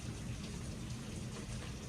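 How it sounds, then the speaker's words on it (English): Heavy rain patters steadily against a window on a downpour day, a dense, continuous wash of drops with a low rumbling undertone, loud and unbroken throughout. "you probably hear this patting on the window because it's really raining."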